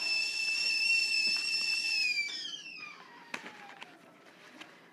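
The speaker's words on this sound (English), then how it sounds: "Sorry for the whistling in the back. My mom is making tea," A tea kettle whistles steadily in the background of a home kitchen, a sustained high tone with overtones that slides downward and fades as it is taken off the heat, followed by a few faint clicks and knocks.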